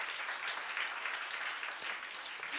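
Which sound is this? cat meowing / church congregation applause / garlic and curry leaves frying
church congregation applause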